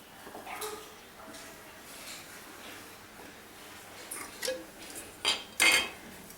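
A container of homemade grape wine being opened, with faint rubbing and handling at first, then a few sharp clinks and knocks of glass or metal near the end, close with no talking.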